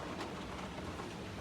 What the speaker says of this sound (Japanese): 雨すごいね。